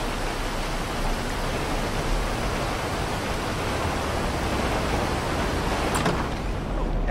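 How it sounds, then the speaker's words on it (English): Steady rain in the Grand Theft Auto video game, a dense, even hiss that holds at the same loudness throughout with no distinct drops or gusts. "Let's go inside out of this rain."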